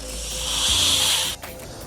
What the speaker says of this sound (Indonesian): Kebanyakan ular kobra akan mendesis,